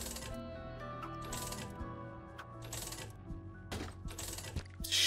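Coins drop repeatedly in The Binding of Isaac video game. The bright metallic jingles come in quick succession over a steady game background, and a louder burst lands at the end.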